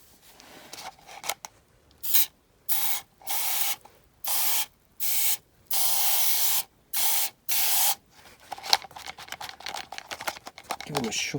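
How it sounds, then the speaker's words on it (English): Mr. Muscle oven cleaner is sprayed onto diecast toy truck parts in a cup in an open garage, in about seven short, hissing bursts, with brief murmured talk before and after. "they can go into a cup and get some oven cleaner sprayed on them"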